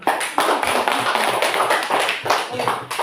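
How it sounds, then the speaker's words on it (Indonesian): A classroom full of students applauds with dense, rapid hand clapping that stays loud and steady from start to finish, with no pause in the noise. "Ya, tepuk tangan."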